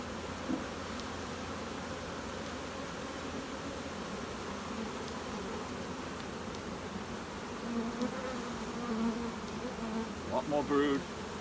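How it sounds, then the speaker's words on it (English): Honey bees buzz in a steady, dense drone from an open single-brood-chamber hive frame full of young bees and brood, continuous and close, with a few brief clicks and handling sounds near the end. "Another full frame of young bees."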